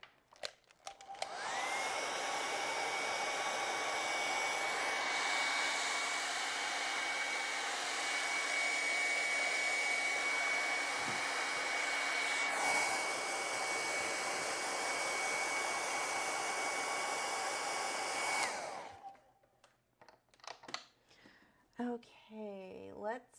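A hair dryer blows on tacky acrylic paint, a loud, steady whooshing roar that runs unbroken for about seventeen seconds before switching off, followed by a little quiet talk and handling noise.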